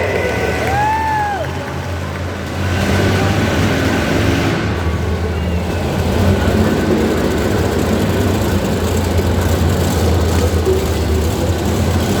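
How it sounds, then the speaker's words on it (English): Heavy monster truck engines rumble at a steady, loud drone in a large indoor arena during a first racing round at a Monster X Tour show, with crowd noise mixed in throughout. "This is our first round of Monster Truck Racing."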